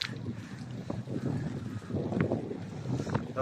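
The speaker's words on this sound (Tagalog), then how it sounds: "Lakas ng hangin." Strong wind buffets the microphone during an outdoor sightseeing bike ride. It comes as a continuous low rumble with gusty swells and no speech.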